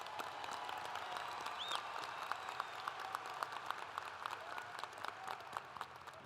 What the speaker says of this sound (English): a round of applause for these 4 outstanding students